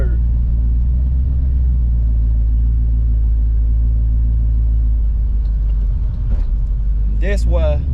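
A supercharged Cutlass car accelerates with a deep, loud engine rumble and a gear change, with someone talking near the end.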